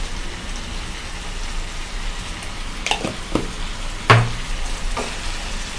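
Potatoes, peas and carrots sizzle steadily in a frying pan while a spoon stirs them, with a few louder scrapes and clinks over the constant crackle.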